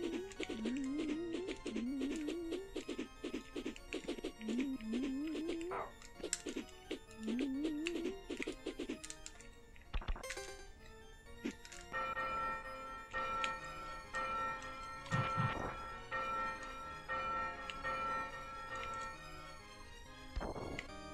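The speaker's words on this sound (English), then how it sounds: "There's going to be a bell at the top of this tower, which gives us our last health" Demon's Crest SNES game audio: dense chiptune music with sharp percussive hits, and a bright sustained metallic bell-like chime ringing near the middle and later, loud and continuous.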